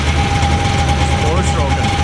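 Suzuki four-stroke engine idling steadily with a faint ringing ping on top, a constant low hum close by, and brief voices talking over it.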